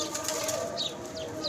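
A young pigeon flaps its wings as it takes off, a short burst of close wingbeats over steady background noise with faint bird sounds.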